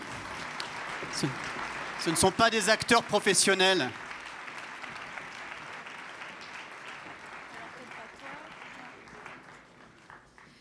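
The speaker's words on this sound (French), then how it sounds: "On peut les applaudir, hein, c'est pas facile" Audience applause at an opening session as workshop participants come on stage, a steady wash of clapping under someone speaking into a microphone, gradually fading.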